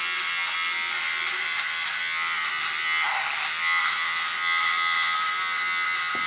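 An electric shaver shaving hair during a greaser-style grooming session gives a steady, close, loud buzz that runs unbroken for the whole stretch, with no talking over it.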